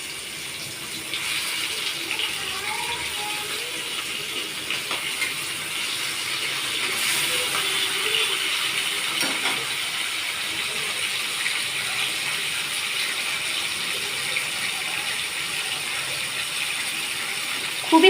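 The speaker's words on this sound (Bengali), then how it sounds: "তো এবার চিংড়ি মাছটা আমি এখানে দিয়ে দিচ্ছি। ওটাকে একটু হালকা করে ভেজে নিতে হবে প্রথমেই।" Prawns fry lightly in a pan, giving a steady, soft hiss of oil that swells slightly midway and holds with no talking over it.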